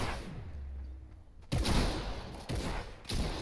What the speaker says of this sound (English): Basically, I three-tapped him with shotguns.